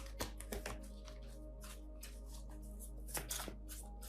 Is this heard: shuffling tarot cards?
yes